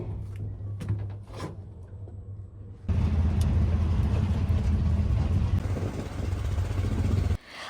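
Auto-rickshaw ride: after a quieter start with a few knocks, a loud, steady engine rumble and road noise kick in and run close and continuous until cutting off near the end.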